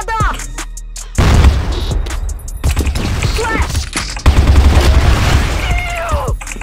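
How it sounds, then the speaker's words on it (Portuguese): Video game explosions and gunfire boom out in a loud, dense stretch, with a grenade blast among them and a second heavy burst midway, while players talk over the action. "Granada!"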